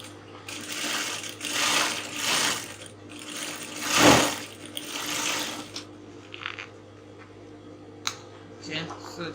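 A sewing machine stitches corset pieces together in several close, whirring mechanical bursts with short pauses between them, fading to quieter handling sounds near the end.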